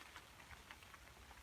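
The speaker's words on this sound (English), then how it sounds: "No, still raining." Rain falling outside a debris teepee at a campsite, a soft, faint patter of scattered drops over a steady hiss, with no voices.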